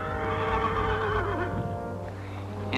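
A wild mustang stallion whinnies in a long, loud, quavering call that falls in pitch across nearly three seconds, heard alone without talk.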